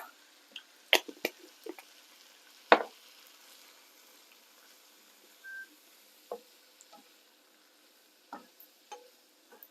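Spoon stirring chilli pork and peanut stir fry with beans in a pan: a few sharp scrapes and clinks, then sparse soft taps and faint sizzling, close and quiet.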